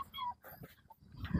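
A dog whimpers in soft, short whines at a breeding kennel, faint and close, with people talking quietly nearby.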